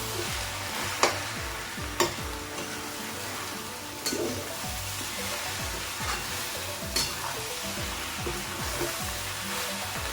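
Dried Bombay duck shutki fries with onions in a pan over a high flame, sizzling steadily while a utensil stirs and scrapes in repeated strokes, with a few sharper clinks and no talk.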